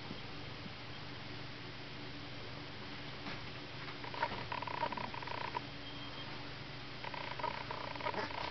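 A cat purrs softly and steadily at close range, a low continuous rumble with slightly stronger stretches partway through and near the end, with no talking over it.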